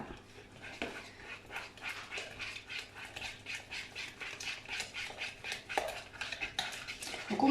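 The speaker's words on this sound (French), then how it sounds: "Donc on mélange tout ça pour avoir un mélange bien homogène, hein, sans grumeaux." Eggs are stirred in a bowl for a mini cannelé batter with yogurt, a soft continuous scraping and swishing in a steady rhythm, close and fairly quiet, with no one talking.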